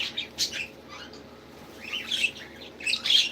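A pure-blooded rainbow budgie chirps and squawks in a garden aviary, giving short bright calls in scattered bursts over a faint background hum.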